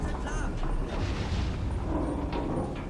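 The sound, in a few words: explosions while submarine sinks in video game Silent Hunter 3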